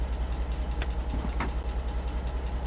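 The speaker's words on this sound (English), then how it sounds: "And I'll leave the engine running." A manual-shift truck engine left running in neutral, a steady low pulsing idle with an even rhythmic throb and faint clicks above it, with no talking.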